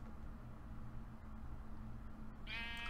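Sheep bleating in the Minecraft video game, a short harmonic bleat arriving near the end over a steady background of game ambience and low hum.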